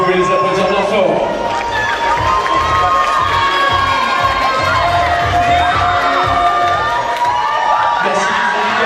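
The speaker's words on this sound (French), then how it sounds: "l'espace de Beauvais, vous pouvez les applaudir bien fort" A large audience at a Miss Oise 2019 beauty pageant crowning in Beauvais cheers, whoops and shouts loudly and continuously, a dense wall of crowd noise with no gaps.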